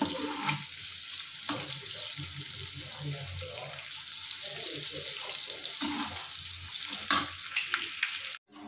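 Eggs frying in a pan over a very low flame, a soft continuous sizzle with occasional stirring scrapes, close and steady, with a voice talking faintly over it and a sharp cutoff at the end.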